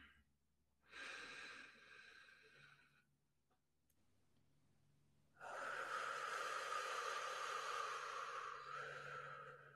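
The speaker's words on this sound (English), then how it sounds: "Now the deepest breath you have taken all day." A person takes slow, deep breaths, heard up close and faint: a long inhale, a pause, then an extended airy exhale.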